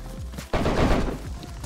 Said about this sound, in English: A lot of shots.